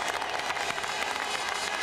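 Trackside crowd at the 2001 Italian Grand Prix cheers and applauds continuously after Juan Pablo Montoya's first Formula One win, a dense, steady wash of clapping and shouting heard at a distance.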